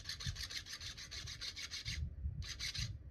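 Close, quick back-and-forth rasping as a flintknapping pressure flaker's tip is filed sharp, a steady run of strokes, a brief pause, then a few more.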